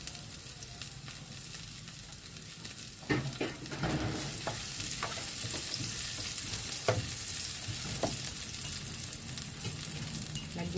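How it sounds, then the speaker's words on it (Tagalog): Garlic sizzles in hot oil in a frying pan, a steady close hiss that swells when the garlic goes in around three seconds, with occasional stirring scrapes and pops through the rest. "Lagyan na natin yung ating bawang."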